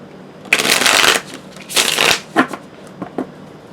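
Tarot cards being shuffled in a few brisk riffling bursts, each a dry papery flutter, followed by several softer taps and slides as the deck is handled; close and fairly clear with no talking.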